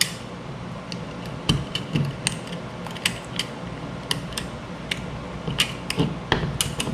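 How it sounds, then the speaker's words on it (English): Small sharp metallic clicks and snaps come as a spring is pressed down and a locking pin fitted into a Glock 43 magazine, irregular close taps over a quiet background. "I'm going to push the spring down. I'm going to stick the pin on top of it."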